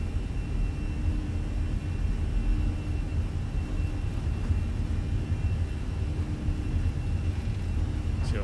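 Steady low engine rumble of an airliner rolling down the runway at Eagle County in a flight simulator, a continuous droning roar with a quiet voice talking over it.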